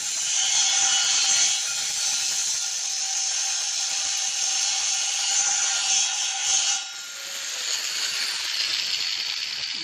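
An angle grinder fitted with a cutting stone cuts steadily, a loud, continuous high abrasive whine that holds for most of the stretch, dips briefly near the end as the disc eases off, then resumes.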